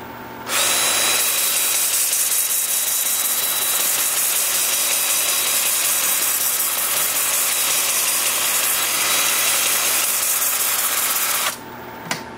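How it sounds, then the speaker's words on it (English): A wood lathe runs in reverse at about 350 rpm, a steady motor whir and hum holding evenly for several seconds before it cuts off near the end. "with the lathe spinning in reverse at about 350"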